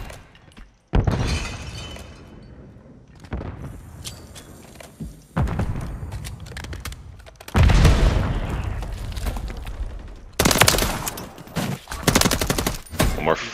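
Gunfire in a Modern Warfare 3 ranked match: loud, close bursts of automatic weapon fire with sharp shattering cracks and footsteps, coming in several heavy volleys through the clip.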